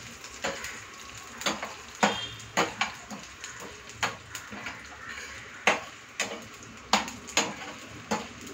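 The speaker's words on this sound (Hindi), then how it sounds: "थोड़ा गोल्डन कलर आए तब तक फ्राई कर लेंगे।" Frying until golden in a pan while making mango rice, a spoon stirs with a steady run of metallic clinks and scrapes, roughly one or two per second, over a low background sizzle.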